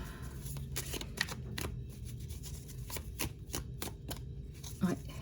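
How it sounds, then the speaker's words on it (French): Tarot cards being handled and flipped over during a reading, giving a run of sharp, papery snaps and shuffling ticks at close range over a soft background hum. "j'ai une carte qui est retournée"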